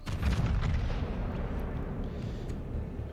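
A naval gun salvo booms from a warship in a battleship video game, a heavy deep roar that rumbles at the start and then decays into a long low tail with no voices.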